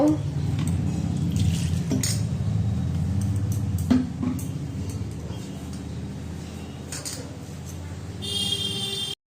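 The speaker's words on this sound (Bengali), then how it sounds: "এবার ময়দাটা মেখে নেব।" Flour dough with baking powder and salt is kneaded in a bowl for chicken pizza: a close, steady rubbing and pressing sound with occasional sharp clinks against the bowl.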